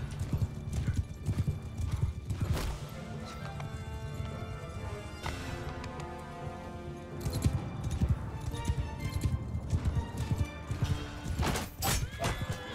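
Horse hooves clip-clop in a steady gallop, with a neigh rising over the noise of a Mount & Blade 2: Bannerlord battle. The sound is continuous and moderately loud, with little talk.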